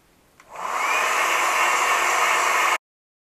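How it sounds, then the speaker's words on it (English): A machine polisher running on car paintwork, spinning up from quiet into a steady, loud whirring hum that holds for about two seconds before cutting off abruptly. "I'm going to machine polish this because it needs a bit of a cut and a good polish"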